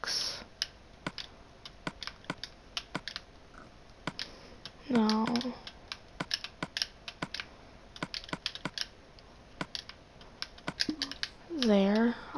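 Mouse buttons clicked repeatedly while playing Minecraft, crisp sharp ticks in an irregular stream, close and fairly quiet, with a couple of brief voiced sounds in between.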